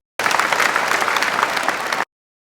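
An audience claps together at a devotional gathering, a dense, steady wash of applause that rises suddenly, holds at an even loudness for about two seconds, and then stops abruptly.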